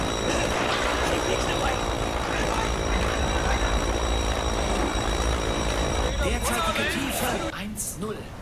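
Aircraft in the Silent Hunter 3 submarine video game, a loud continuous droning engine roar with steady tonal whine that fades out toward the end.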